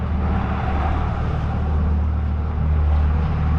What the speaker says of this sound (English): Coming turbo diesel, boys.